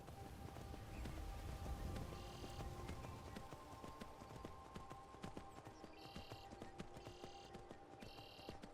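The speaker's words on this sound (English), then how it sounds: "I think the horse here is drunk." Horse hooves clopping in Skyrim, a steady walking rhythm of light thuds under continuous game ambience with faint chiming tones, close and moderate in level throughout.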